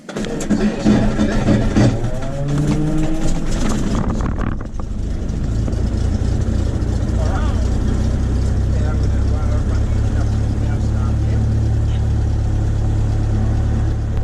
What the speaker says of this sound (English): You'll see the prop will turn over. Then when the engine starts, take your finger off the key.